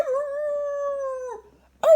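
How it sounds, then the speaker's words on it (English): A single dog gives one long, steady howl that holds its pitch, then falls away and fades out. After a brief pause, a second loud howl starts right at the end, close and clear with no talking. "Oh, and howl he did, the biggest howl you have ever heard."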